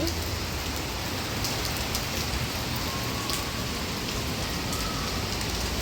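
Steady rain pours down without pause, an even hiss of drops striking surfaces close by, with no voices heard.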